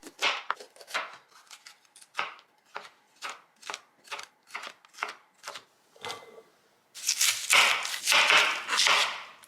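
Onions and peppers being chopped on a board for cheesesteak burgers, a rapid run of crisp, close knife strikes in an uneven rhythm, ending in a denser, louder burst of cutting, with no talking.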